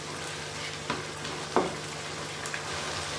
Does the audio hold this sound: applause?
no